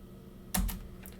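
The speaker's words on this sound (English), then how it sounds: "I'm going to type in IP router" A few quick keystrokes on a computer keyboard as a network command is entered, a short close cluster of clicks standing alone against a quiet room.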